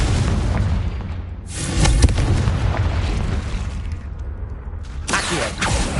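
Confringo spell explosions in Hogwarts Legacy on PS5 go off as loud, close booming bursts, with two broad blasts among the rumbling game sounds.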